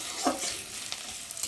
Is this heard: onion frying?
yes